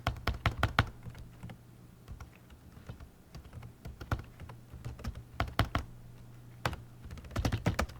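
Keys clacking on a computer keyboard while code is typed, close and fairly quiet, with clusters of rapid keystrokes separated by short pauses and no voices.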